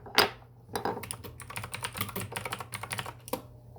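Fingers type on a computer keyboard in a quick, uneven burst of close, crisp key clicks after a single louder opening tap, with no voices.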